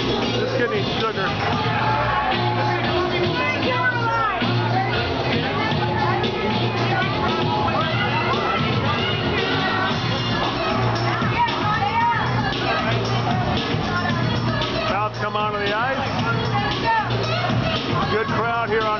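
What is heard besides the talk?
hockey arena crowd hubbub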